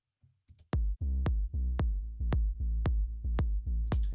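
A sidechain-compressed electronic kick drum in Ableton, about nine deep booming hits in a steady even pulse, each with a clicky attack and tonal low decay, after a few faint soft taps.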